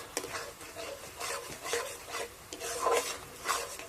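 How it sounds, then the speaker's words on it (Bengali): A spatula scrapes and stirs pumpkin semolina dough in a pan: soft, rhythmic rasping strokes about twice a second, close and fairly quiet, with faint sizzling underneath. "এইভাবে কিন্তু অনবরত খুন্তি নাড়াতে হবে, না হলে কিন্তু তলাতে লেগে যাবে।"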